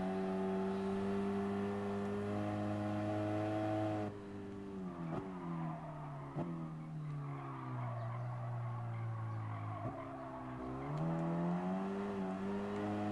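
A race car engine in Gran Turismo Sport during a Sunday Cup race accelerates hard, its pitch climbing steadily and dropping sharply at each of several gear shifts, loud and continuous with no talk.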